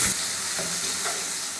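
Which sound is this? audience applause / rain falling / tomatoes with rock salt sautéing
tomatoes with rock salt sautéing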